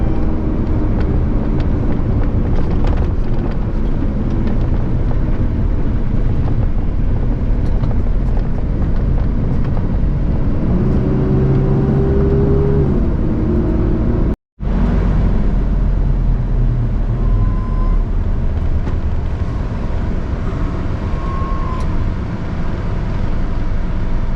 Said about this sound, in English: But we in the big truck.